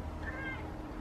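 A cat gives a single short meow in a home, moderately faint over a steady background hum, with no talking during it.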